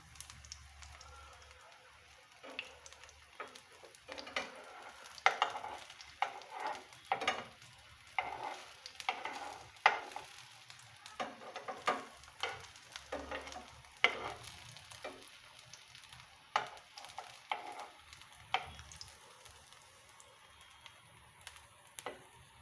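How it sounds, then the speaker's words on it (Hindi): Aloo tikki frying in a pan over a medium flame, giving a steady soft sizzle broken by repeated scraping and stirring clicks, close and moderately quiet with no talking. "अब इसको मीडियम फ्लेम पे फ्राई कर लेते हैं,"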